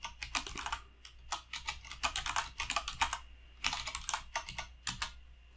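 Rapid typing on a computer keyboard, entering a username and password, with steady clustered keystroke bursts and short pauses, close and clear, no voices.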